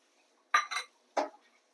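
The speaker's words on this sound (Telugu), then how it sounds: "ఇప్పుడు కలుపుకుందాం కొంచెం." A utensil scrapes and clinks against a metal pan while Maggi noodles are stirred with masala, heard as three short, close metallic strokes in quick succession, the last a little apart, with silence between.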